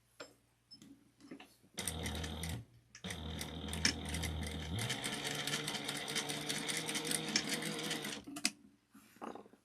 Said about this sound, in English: we're going to sew a 1/2 inch seam allowance